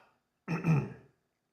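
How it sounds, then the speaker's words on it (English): A single throat clearing, a short rough burst in two pulses, close and fairly loud, followed by quiet. "I may clear my throat here every now and then"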